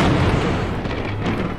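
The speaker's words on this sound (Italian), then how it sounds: "Che era? Non lo so, un tuono." A thunder clap during a storm in the game Madison: a loud, broad rumbling boom that fills the whole moment and rolls on without a break, close and heavy.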